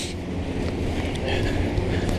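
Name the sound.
wind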